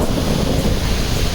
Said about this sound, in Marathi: समुद्राच्या लाटांसारखे ते लाटा येत आहेत